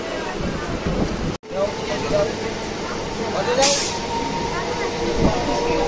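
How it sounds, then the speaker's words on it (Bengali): A local commuter train pulls away from Bidhannagar Road station on a Sealdah to Ranaghat run, a steady broadband rumble of wheels and carriage noise with a brief dropout and a hiss, heard from inside the carriage with faint voices. "বন্ধুরা, আমাদের ট্রেন ছেড়ে দিল বিধাননগর রোড থেকে।"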